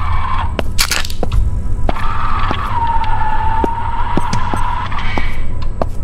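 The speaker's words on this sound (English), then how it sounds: "Why does it sound like a car? Like one of those toy cars." A toy car in the Tattletail video game, heard as a steady whirring motor hum that rises and wavers over a constant background drone, punctuated by scattered clicks and knocks, with no talking.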